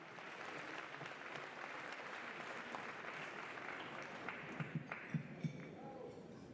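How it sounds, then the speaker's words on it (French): Warm, sustained applause from a large audience at a formal gathering, a dense steady wash of clapping throughout with a few sharper claps standing out near the end. "Des applaudissements très chaleureux."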